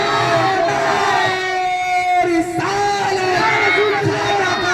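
A large crowd of religious gathering attendees at a mosque shouts back a chanted response to a slogan, a loud, sustained mass of voices with harmonic yelling running through the whole stretch and a brief dip midway.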